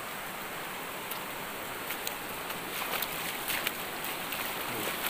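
River water rushing at a crossing on a rural path in the Indonesian countryside, a steady hissing wash close by with faint scattered clicks and knocks, no talking.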